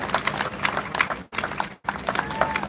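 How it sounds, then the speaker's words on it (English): Audience clapping at a Veterans Day ceremony, a round of applause after a performance, with brisk, irregular handclaps that come through in uneven bursts, drop out briefly twice, and then resume. "Another round of applause,"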